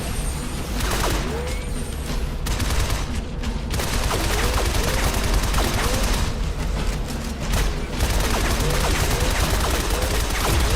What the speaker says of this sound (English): Occasionally he'll use his gun here to try to shoot you